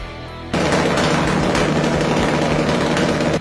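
An open-throttle engine effect from a UMA M5 sound module starts after a brief lower idle, then becomes a loud, dense, rapid-fire engine roar that holds steady to the end with no talk.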